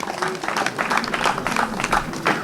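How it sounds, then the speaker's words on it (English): Audience applause at a mayor's question-and-answer session, moderate clapping from a crowd that carries on evenly throughout. "I believe you guys really deserve an applause"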